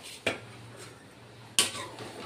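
Two sharp clinks of a utensil against a metal cooking pot as boiled drumstick stalks are lifted out, with a quiet pause between the knocks.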